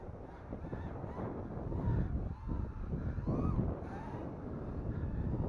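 Steady wind buffets the microphone outdoors in a continuous low rumble with gusts rising and falling, while faint honking sounds come through.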